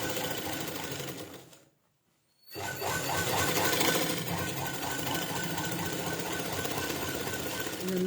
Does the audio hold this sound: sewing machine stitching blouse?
yes